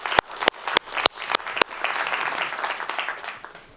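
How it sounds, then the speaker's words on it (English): At a green-industry summit, a few loud individual claps ring out one by one at first, then a whole audience joins in with steady, moderate applause that holds to the end. "So just want to take a minute and recognize them and give them a round of applause."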